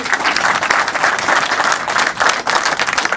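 Dense, sustained applause from a large audience at an honorary ceremony in Rabat, steady and loud throughout with no pauses.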